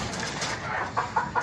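Young roosters, stags kept for backyard breeding, cluck in short bursts within a noisy outdoor poultry yard, with a few brief calls standing out near the end.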